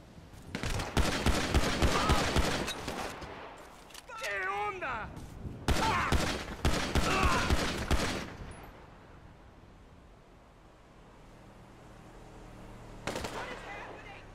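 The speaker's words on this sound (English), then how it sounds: "shots fired on me" Gunfire in the video game GTA San Andreas with LSPDFR: loud rapid bursts of shots in clusters, pausing briefly and then resuming, with one final shot later, amid game sounds.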